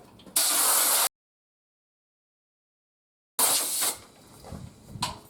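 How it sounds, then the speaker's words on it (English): Two bursts of loud, broadband hissing from compressed air blowing degreaser off a 75-year-old lathe, the first short and steady, the second longer and uneven, with a silent gap between them. "Now I'm just going to spray it off with some air"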